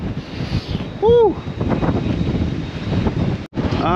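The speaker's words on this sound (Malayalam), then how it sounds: "കാറ്റടിച്ചിട്ട് ഒരു രക്ഷയില്ല കേട്ടോ ഭയങ്കര കാറ്റാ" Strong wind buffets the microphone on a boat deck at sea off New Zealand, a loud, steady rushing roar with a brief dropout near the end, while people talk over it.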